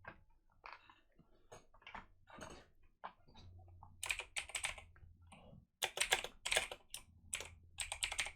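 Computer keyboard typing in quick, uneven bursts of clicky keystrokes, close and fairly faint, with short pauses between flurries.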